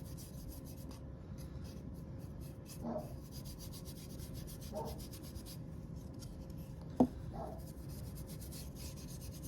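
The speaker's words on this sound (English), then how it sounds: "And just dry brush it black." A dry brush rubs black paint onto a wooden frame in soft, faint scratchy strokes, repeated at irregular intervals over a quiet room background.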